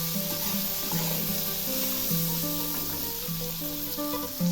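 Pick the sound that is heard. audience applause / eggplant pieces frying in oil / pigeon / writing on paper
eggplant pieces frying in oil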